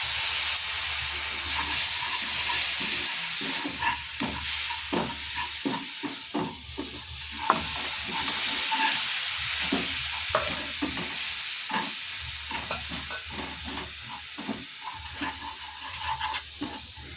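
Beetroot water poured into spices frying in a pan sizzles and hisses continuously while a spoon stirs and scrapes, close and fairly loud, with no talking.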